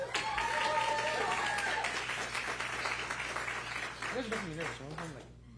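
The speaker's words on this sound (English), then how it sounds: "Please give them a huge round of applause" A school board meeting audience claps for the middle school's student body president and vice president, a broad sustained applause with voices talking over it near the start and end.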